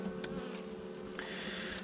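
Honey bee colony buzzing steadily during a November hive inspection, a dense continuous hum from many bees close by with no speech over it.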